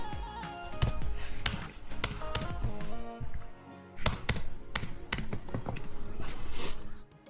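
Code being typed on a computer keyboard in quick, uneven bursts of clicking keys with a short pause midway, close up over faint background music.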